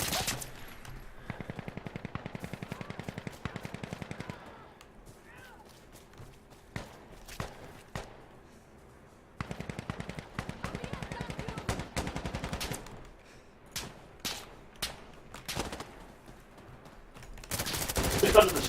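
Automatic gunfire in the shooter game Insurgency Sandstorm, with long rapid bursts followed by scattered single shots and a final loud volley, close and sharp, with players talking over it.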